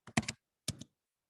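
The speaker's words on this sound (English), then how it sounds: "so you can see what I'm typing here" Quick keystrokes on a computer keyboard, a short burst of several taps followed after a pause by a second, briefer cluster, fairly quiet in a silent room.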